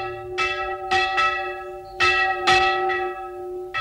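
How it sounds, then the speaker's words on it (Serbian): A church bell rings as its clapper strikes the bell, giving several separate loud clangs with long, sustained ringing tones that overlap and fade between strikes, with no talking over them. "klimen udara u pendu i zvono zvoni."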